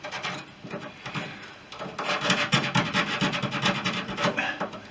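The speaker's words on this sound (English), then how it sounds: "get rid of the excess with a nice little light sand" Light hand sanding over wooden top wings of a Fisher Youngster aircraft build, taking off excess: steady close rasping strokes, softer at first, then louder repeated rubbing passes with no talk.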